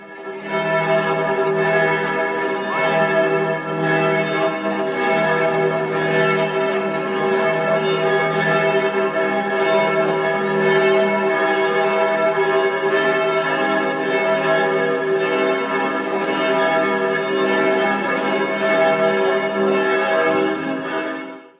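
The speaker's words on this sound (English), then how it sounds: "one sound still rises above the rest: the bell." A church bell rings steadily and loudly, its rich overlapping tones and long resonant hum filling the air continuously with no voices.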